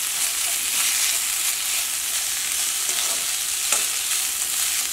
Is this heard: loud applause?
no